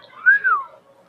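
A woman's single rising-and-falling whistle to get someone's attention at a ballgame, clear and fairly close, lasting about half a second against quiet surroundings.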